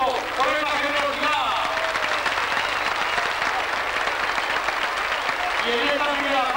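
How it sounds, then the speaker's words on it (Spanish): Audience applause at the 1991 Tomelloso International Folklore Festival for a folk group, steady and dense throughout, with some voices and a faint background tone mixed in. "¡Un aplauso para este grupo!"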